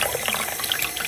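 Lukewarm water runs steadily from a bathroom tap into a sink while a makeup brush is rinsed under it, a close, continuous splashing rush with no speech over it.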